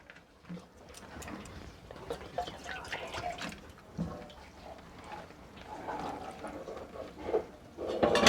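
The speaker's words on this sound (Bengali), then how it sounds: "এবার এতে আমি জল দিয়ে দিচ্ছি।" Water poured into a pan of chilli chicken, a gentle running and splashing liquid sound with scattered clinks, moderate and close, rising toward the end.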